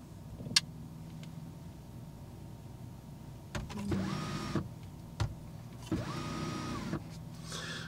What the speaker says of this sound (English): Roof roller sunblind.